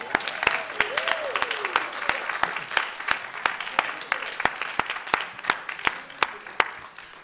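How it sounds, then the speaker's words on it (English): An audience at a library program of Southern Black song and narrative gives a round of applause after a singer's performance, with sharp individual claps standing out over a steady wash of hands for several seconds. "Can we have another round of applause, please?"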